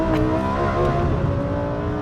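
A normally aspirated supercar engine accelerating on a track, a loud, steady, high-pitched harmonic wail held under throttle through a corner, with no talk.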